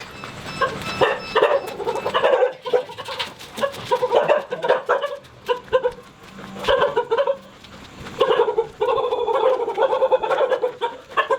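At night in Bali, several dogs bark and howl repeatedly in uneven bursts, some nearby and some farther off, with short pauses between outbursts.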